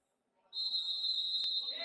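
A referee's whistle blows one long, loud, steady blast during an indoor futsal match, called for a foul, with crowd murmur and a sharp ball thump underneath.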